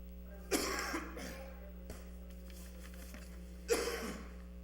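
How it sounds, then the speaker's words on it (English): Two brief coughs rise out of a quiet council chamber, faint and some distance from the microphone, spaced a few seconds apart over a low steady room hum. "coughing going on while you were talking"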